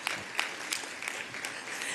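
An audience at a UN special event on transforming education applauds a young panel speaker, giving a short burst of scattered, moderately loud clapping from a crowd in a hall.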